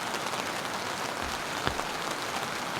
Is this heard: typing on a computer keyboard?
no